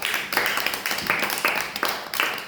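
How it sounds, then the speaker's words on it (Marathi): A small group claps for a child's handmade crafts, several short bursts of hand clapping in an uneven rhythm, fairly close and moderately loud. "श्रेयासाठी टाळ्या वाजवा."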